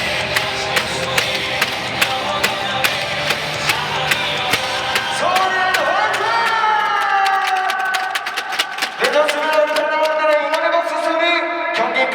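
A crowd at a Seoul E-Land FC football match in Jamsil Stadium claps and cheers steadily, with sharp rhythmic claps throughout, while amplified speech and music play over it.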